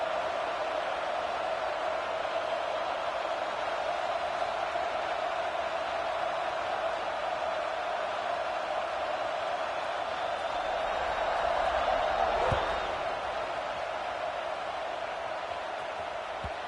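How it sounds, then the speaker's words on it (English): A stadium crowd in the video game College Football 26 buzzes steadily: a dense, distant roar of many voices holds at an even level throughout, swelling slightly near the end, with a faint sharp click partway. "this crowd is buzzing after that last score"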